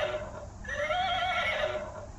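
A toy animal-sound button on a children's giraffe guitar plays a recorded horse neigh, one short whinny with a wavering, falling pitch, clear and fairly close.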